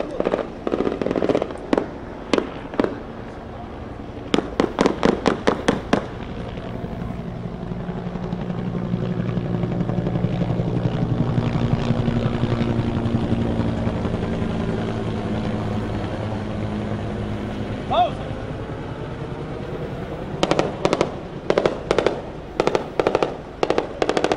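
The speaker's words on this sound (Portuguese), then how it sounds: "Não dá pra ter certeza ali se é tiro da polícia ou se são tiros dos criminosos." Bursts of rapid gunfire crackle in several volleys during a shootout in the Salgueiro neighborhood of São Gonçalo, with a helicopter's rotor droning and swelling underneath between the bursts, moderately distant.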